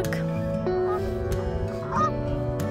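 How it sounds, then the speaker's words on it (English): Ducks at a palace grounds quack and honk loudly in a close, agitated scuffle, with several overlapping harsh calls bursting out over a couple of seconds. "Hello, little duck."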